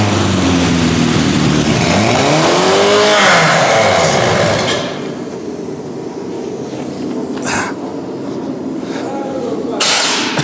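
A car engine with its exhaust blocked revs up and down loudly toward 8,000 rpm with rising and falling pitch, then drops to a lower idle with occasional hissing bursts.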